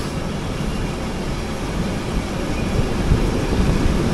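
A passenger train in Montenegro, near Podgorica, starts moving again after a stop. Its low, steady rumble swells gradually as it picks up speed.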